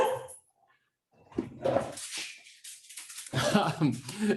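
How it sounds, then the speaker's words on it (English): A dog barks and whimpers indoors during a remote economics talk on hosting the Olympics, with short barks and yelps mixed with a speaker's voice, fairly close but not very loud. "my dog wants to participate in this talk"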